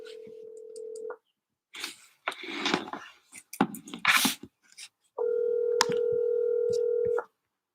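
A telephone call being placed: a steady dial tone, a quick series of keypad dialing tones, then a long ringback tone, heard clearly and alone.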